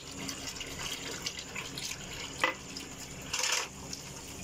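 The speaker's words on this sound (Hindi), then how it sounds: "अब आ गया बर्तन धोने की बारी है" Tap water runs in a home kitchen sink while dishes are washed, a steady faint splashing with a few louder bursts and clatters, no talking.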